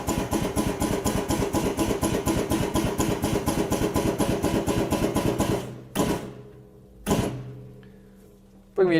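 An ATEX pneumatic drum tipper with power rotate chugs in rapid regular air pulses as it turns the drum back upright, then stops, followed by two short sharp bursts of exhausting air, loud and close.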